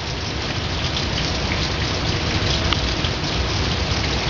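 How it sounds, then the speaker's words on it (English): Steady, heavy rain patters continuously against window glass, an even hiss with no breaks and no voices. "It's been raining like this now for about 12 minutes straight"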